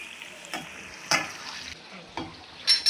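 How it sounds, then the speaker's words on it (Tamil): Sliced onions frying in hot oil in batches for a Kerala chicken roast: a close, steady crackling sizzle broken by a few sharp stirring clacks, with no talking. "வெங்காயத்தை நான் அனல் வச்சு 2 பேட்சாக போட்டு பொரிச்சு எடுத்துக்கிறேன்."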